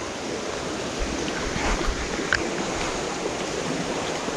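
Water from a small mini-dam irrigation canal at Sundarijal runs in a steady, continuous broadband rush, close and even throughout, with no talk over it.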